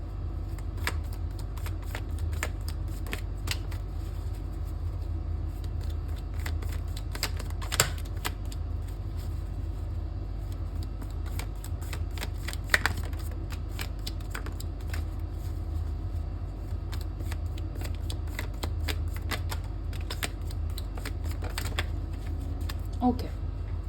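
A deck of tarot cards is shuffled repeatedly, giving soft steady riffling and sliding with occasional sharper card snaps and a low background hum, with no talking.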